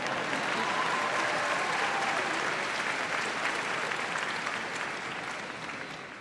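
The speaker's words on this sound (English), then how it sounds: "Round of applause for that." A crowd gives a full round of applause at a college baccalaureate ceremony, a dense, even wash of clapping that holds steady before tapering slightly near the end.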